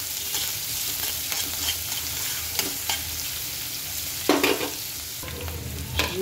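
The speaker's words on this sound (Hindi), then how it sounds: "इसके साथ साथ ही इसमें मैं डाल दूंगी अनियन, इन मसालों को मैं अच्छे से भून लूंगी" Onion and spices frying in a pan for a spicy potato-tomato sabzi, a steady close sizzle broken by scraping stirs of a spoon and a few louder clatters.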